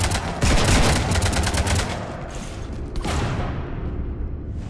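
Sustained bursts of gunfire raking a ship in Mass Effect 3, loud and dense at first, then thinning into scattered shots and a fading whoosh.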